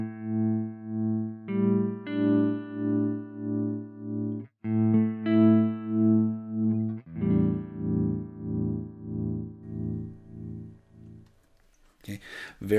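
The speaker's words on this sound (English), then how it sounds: "very, very kind of spacey, slow effect" A guitar run through a Fairfield Circuitry Randy's Revenge ring modulator pedal plays sustained notes and chords, and the tone swells and pulses in a slow, spacey wobble, with a short burst of noise at the end.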